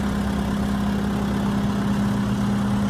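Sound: tractor engine running while its hydraulics hold wood

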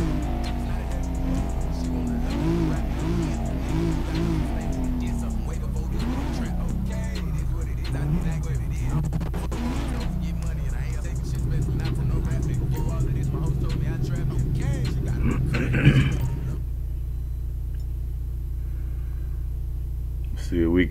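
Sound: modified 1975 Caprice with 2JZ engine drag racing in GTA 5 video game

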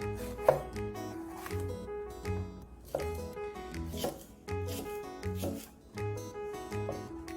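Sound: knife slicing bell pepper

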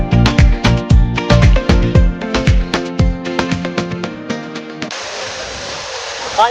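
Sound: waterfall

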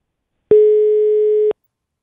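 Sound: telephone dial tone while calling a number

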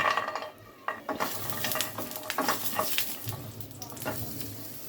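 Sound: lentil badis (dal bori) frying in hot oil

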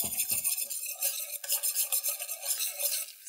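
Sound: butter melting and being stirred in a pan

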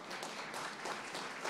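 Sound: audience applause for the startup WeShip

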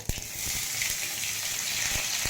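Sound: onions added to hot oil with cumin and mustard, frying

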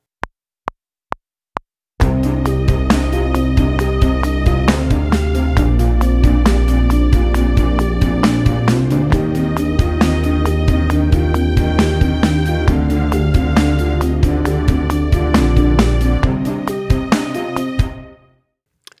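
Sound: synthesizer bass preset playing

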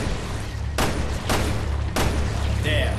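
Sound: gunshots from a gun in a video game (Resident Evil Revelations 2)

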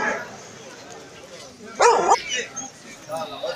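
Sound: dog barking at a market

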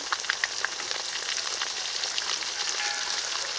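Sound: ground spice paste sautéing with fried onions

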